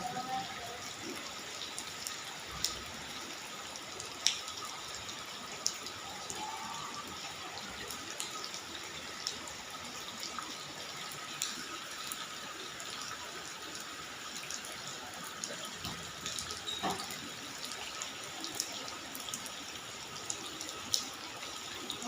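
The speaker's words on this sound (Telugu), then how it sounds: "చూస్తున్నారా ఫ్రెండ్స్ వర్షం ఎలా పరుగులు తీస్తుందో" Constant broadband wash of heavy rain falling, steady and even throughout, with occasional faint drips and taps standing out against the hiss.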